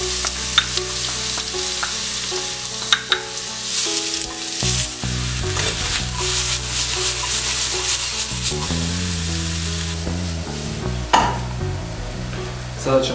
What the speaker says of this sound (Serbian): Luk smo sada sitno isjeckali, sad ćemo ga staviti na zagrijano ulje.